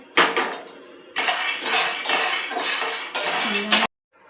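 Peanuts are dry-roasted in a pan, giving bursts of rattling, scraping clatter as they are tossed and stirred, in several separate loud spells with short pauses between.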